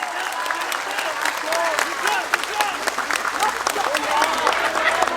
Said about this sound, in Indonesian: Tepuk tangan untuk BMI, keren ini.